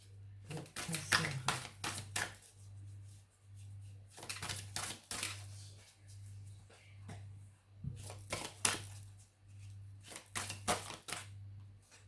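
Tarot cards shuffled for a reading in repeated riffling bursts, close and moderately loud, separated by short pauses over a steady low hum.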